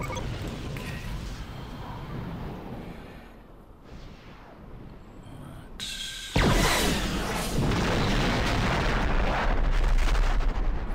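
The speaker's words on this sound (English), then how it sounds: "Station is under attack. Explosion is going on." Heavy booming explosions and crackling blasts from a space station attack in Star Trek Armada II pile up, growing denser and louder partway through into a continuous barrage of battle noise.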